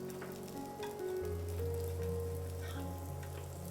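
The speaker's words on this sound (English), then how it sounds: "brush a little oil on the top surface as well. Cook them until they turn a beautiful golden brown." Garlic beetroot bread frying in an oiled pan, a steady soft sizzle that stays low and even throughout with no talking.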